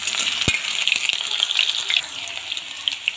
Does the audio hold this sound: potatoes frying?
yes